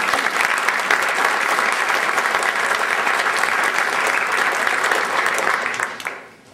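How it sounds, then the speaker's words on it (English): A theatre audience breaks into sustained, dense applause, loud and steady for about six seconds before tapering off at the end, with no talking over it. "please let's give them a round of applause now"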